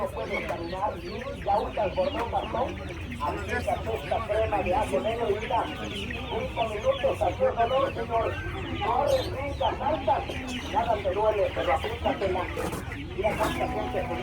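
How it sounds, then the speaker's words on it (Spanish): Chickens and hens clucking continuously at a busy market-day poultry stall in Tlaxiaco, Oaxaca, a dense chorus of overlapping clucks with an occasional rooster crow, with people talking under it. "Pues en verdad sí hay muchas variedades de pollos, de gallinas, todo eso."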